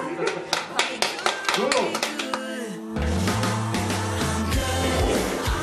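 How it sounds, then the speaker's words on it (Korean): A few people clap in sharp, separate, uneven claps at a luxury goods restoration workshop, close and loud, before the sound gives way to a steady tone with talk. "박수"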